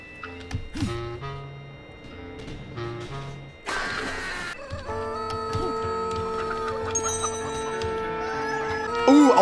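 Clucking from a chicken in the ALTF4 video game, short repeated pixel-game clucks and chirpy bursts over layered electronic game sounds, with a noisy burst partway through and a sustained tone toward the end.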